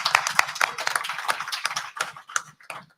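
A church audience at a ward council candidate forum claps in a brief round of applause, scattered hand claps building into a dense patter, close and fairly loud, then thinning out toward the end.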